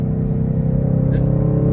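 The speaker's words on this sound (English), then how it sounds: "This is the first drive with the KOOKS headers combined with AWE a switch path exhaust." A 2024 Ford Mustang Dark Horse V8 fitted with Kooks headers and an AWE switch-path exhaust rumbles loudly and steadily up close, a deep throbbing engine note throughout.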